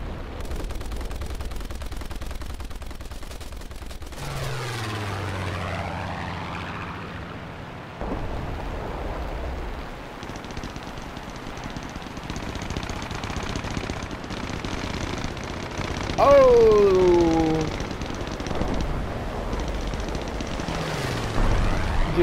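Aircraft engines drone and sweep past in War Thunder, with rising and falling pitch as planes pass close, mixed with loud gunfire and battle noise throughout.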